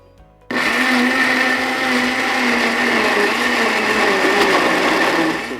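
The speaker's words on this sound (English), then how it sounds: "I'll first mix this and then I'll add the rest as the blending continues." A blender whirs loudly and steadily as it purées a jollof rice mix, starting abruptly and running at an even, close, high-pitched drone for the rest of the clip.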